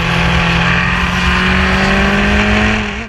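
A Formula One race car engine holds a loud, sustained whine that climbs slightly in pitch before it cuts off abruptly at the end.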